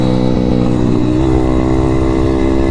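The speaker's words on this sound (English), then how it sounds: "So it is a little Chinese pit bike after all." A small M2R RF160 Chinese road-legal pit bike engine runs loud and close, holding a steady buzzy idle before rising briefly in pitch as it revs, with no talking.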